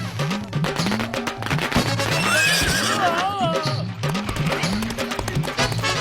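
Horse neighing during a cartoon wedding procession: a long, wavering whinny rises over rhythmic clip-clopping hooves and a droning backing beat, loud and close.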